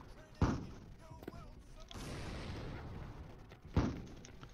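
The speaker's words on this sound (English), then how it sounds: "Where's that mortar shooting at?" Mortar firing in the toy-soldier game Attack On Toys, two deep thumping launches a few seconds apart with a rushing swell between them, fairly quiet overall.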